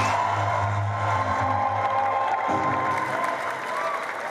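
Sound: audience applause and cheering

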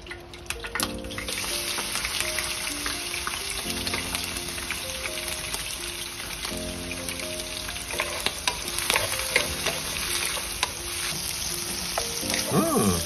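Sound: frying fresh shrimp for pad thai

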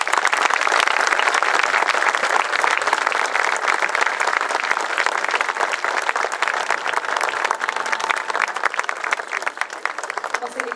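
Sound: applause at a school's 150th anniversary ceremony

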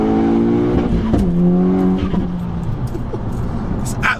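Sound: VW Golf Edition 30 2-litre four-cylinder single-turbo engine revving

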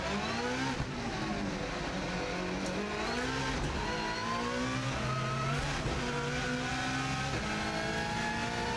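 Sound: car lapping the TT course at speed

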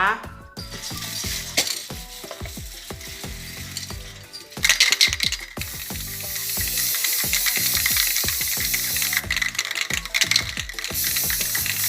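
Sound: spray paint being sprayed from a can

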